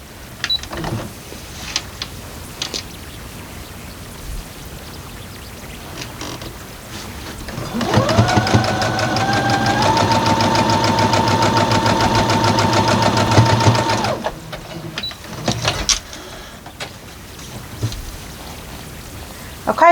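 A sewing machine stitches a barn star quilt block, its motor humming steadily for several seconds and rising slightly in pitch before stopping, with soft handling noises before and after.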